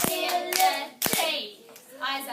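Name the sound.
children clapping out the syllables of a word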